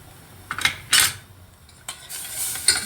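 A spoon stirs a cocoa, starch and flour mixture for pudding in a pot or bowl, giving a few short scraping and clinking bursts separated by quiet gaps, close by and with no one talking.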